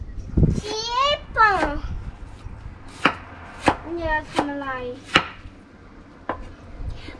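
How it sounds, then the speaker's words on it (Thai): A knife chops vegetables on a board with sharp, separate knocks spread through the clip, while someone talks over and between the cuts. "เสร็จขั้นตอนการหั่นผักแล้ว"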